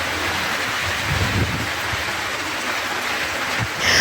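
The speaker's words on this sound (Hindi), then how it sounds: "मैं आपको दिखाती हूँ बारिश का एक लुक, ये देखिए।" Heavy rain pours steadily in a monsoon-season downpour at a home, a dense continuous hiss with a rumbling low end and a brief swell near the end, with no voices.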